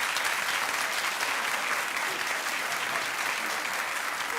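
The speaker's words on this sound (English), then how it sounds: "keep clapping. No, clap louder." A studio audience claps and cheers in a dense, steady burst of applause that holds at full strength throughout, loud and close, with no voices standing out.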